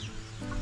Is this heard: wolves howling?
no